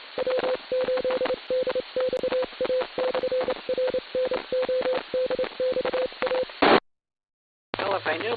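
An amateur radio repeater on the 2m/440 bands sends its Morse code identification, a steady tone keyed into rapid dots and dashes for several seconds, followed by a brief burst, a gap of silence and then a hum with noisy talk.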